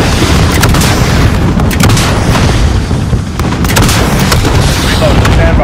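Artillery strike explosions in Call of Duty: Modern Warfare (2019) pound away as dense, continuous, very loud booms and gunfire, with a brief dip partway through before the barrage resumes.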